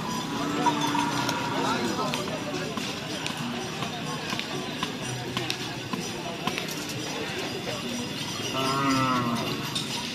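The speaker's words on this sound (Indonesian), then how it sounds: "Ini guys, sapi Karso Alam" Cattle on Sapudi Island heard at a crowded outdoor gathering, with cow moos near the start and end under a steady din of voices, talk and clanking that could be cowbells.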